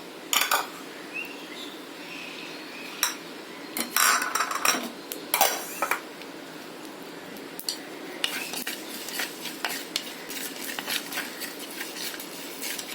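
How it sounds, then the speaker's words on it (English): Cumin seeds being dry-roasted and stirred in a pan, with a spoon scraping and clinking against the metal in irregular bursts and quieter stretches between, heard alone with no talking. "to roast the cumin seeds."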